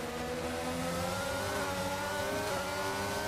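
Formula 1 cars from a McLaren and a Haas race side by side in a racing game at the Brazil circuit, a steady, loud high-revving engine whine with overlapping pitch lines, continuous with no talk.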